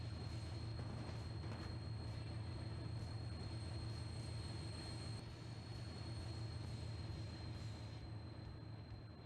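A heavy video-game train rumbles and clatters steadily with a constant low drone and a faint high whine, continuous and fairly close, no voices.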